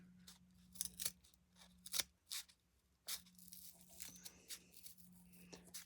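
Scissors snip paper for a craft accordion, with a series of close, crisp, separate cuts spaced irregularly and some light paper rustling in between, over a faint steady hum.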